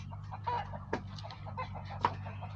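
Chickens cluck near a greenhouse in a steady low murmur of soft clucks, with a few sharper calls standing out, close by and without talk.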